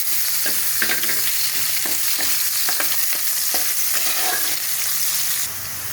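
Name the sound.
chopped onions frying in hot oil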